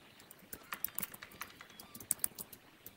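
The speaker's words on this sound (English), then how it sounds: "I'm typing this in chat real quick." Quick typing on a computer keyboard, a run of light, uneven clicks and taps close by, fairly quiet with small pauses between bursts of keystrokes.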